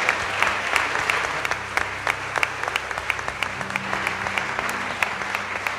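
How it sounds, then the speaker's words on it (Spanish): Congregation at a church service gives the Lord a loud round of applause after a prayer, with dense, steady clapping that holds for several seconds and scattered sharper claps standing out over a faint low hum. "Vamos a darle un fuerte aplauso al Señor y gracias por todo."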